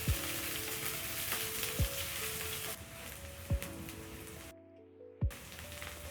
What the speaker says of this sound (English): Next, I'm going to add my onions. Then I'll saute until soft.